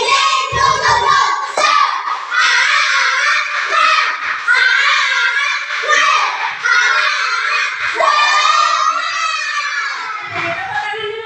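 A third-grade class of children does a rhythmic clapping chant, voices shouting together over sharp, regular hand claps, loud and close, with repeated chanted phrases throughout.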